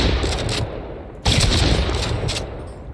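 Video game shotgun blasts crack loudly and close, one heavy shot cutting in sharply after a brief dip, amid a dense, noisy battle mix.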